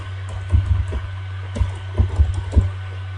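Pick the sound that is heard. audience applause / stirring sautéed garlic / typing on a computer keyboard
typing on a computer keyboard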